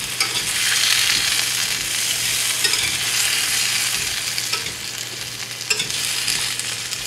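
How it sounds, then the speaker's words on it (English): Vegetables and potatoes sautéing in a hot pan, with a steady sizzle and occasional scraping stirs throughout, close and without talk. "I'm just gonna saute these up a little bit, just kind of brown them"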